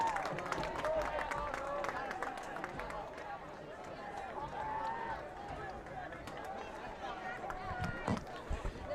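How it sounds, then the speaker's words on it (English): Football fans in the stands at a Dracut vs. Haverhill high school game applaud a touchdown, steady crowd clapping and cheering held for several seconds with a louder burst near the end, mixed with broad stadium noise. "the Hillies fans give a loud round of applause"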